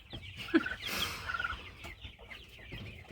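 Hens clucking softly nearby, a few short bursts of clucks over a low rustling farmyard background, no talking.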